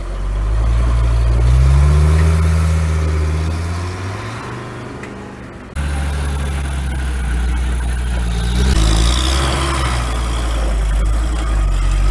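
Engine of a homemade all-wheel-drive car with a balancer-type rear suspension, running steadily at close range with a deep low drone and rising and falling revs, loud throughout and with no voices.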